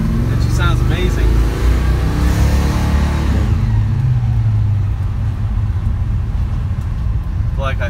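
A 1955 Chevrolet Bel Air engine revs up loudly and close, a deep rising roar that settles into a steady rumble, with a voice talking over it.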